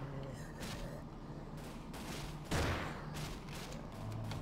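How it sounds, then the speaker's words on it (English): Game gunfire in Roblox crackles in a continuous dense rattle of shots with one heavier blast midway, heard over a busy background of game sound. "I'm gonna shoot from over here."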